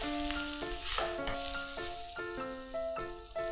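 Thai red curry paste stir-fries in a hot pan, a soft steady sizzle sitting beneath louder melodic background music.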